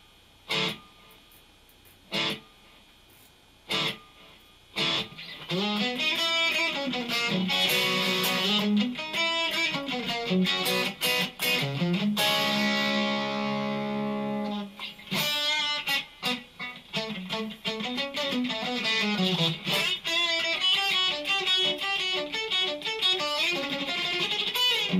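An electric guitar plays through a Zoom G3 multi-effects unit with its reverb and delay turned down, giving a few sparse picked notes and then a continuous loud, distorted run of played phrases.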